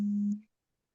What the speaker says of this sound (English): Kind of humming sound behind. It sounds like someone's alarm.